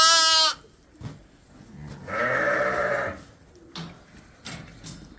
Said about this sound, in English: So Liz, gonna let her lambs loose this morning.